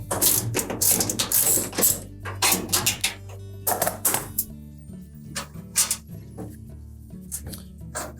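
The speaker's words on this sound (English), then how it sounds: "Now to remove the bottom one, you'll need an extension for your ratchet." A ratchet fitted with an extension works the lower shock mounting bolt on a Samsung washer, giving a run of quick, close metallic clicks and clacks in bursts with short pauses between them.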